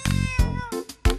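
A cat meows several times in a row, close and clear, each call a drawn-out, tonal cry with short gaps between.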